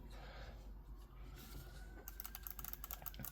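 Small side buttons on a Scuf Envision Pro game controller being clicked, a quick run of light, sharp clicks in the second half, close up and alone with no talk.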